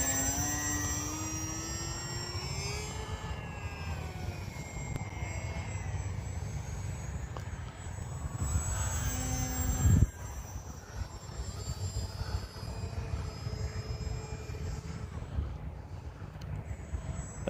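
HobbyZone AeroScout S 1.1m electric RC plane flying outdoors on a cloudy, windy day, its propeller motor whining steadily with pitch swells as it climbs and turns, fairly faint over background wind noise.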